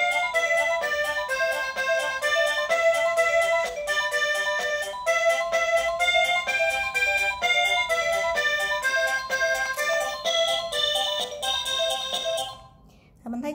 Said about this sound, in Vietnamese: bây giờ là tiếng chuông thứ ba